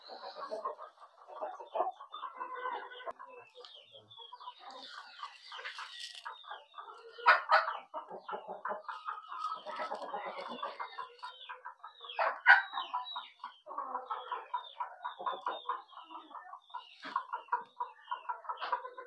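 A pair of chickens cluck continuously and softly while pecking at grain and water outdoors, with repeated rapid clucking bursts and a few louder squawks, fairly close and without talk.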